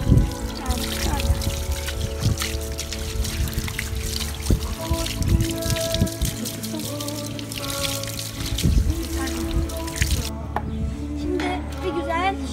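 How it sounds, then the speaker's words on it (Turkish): Water pours and trickles steadily while Şile the dog is rinsed after a bath at home, with a person talking over the running water and some splashes. "Şimdi bir güzel Şile'yi duruluyoruz."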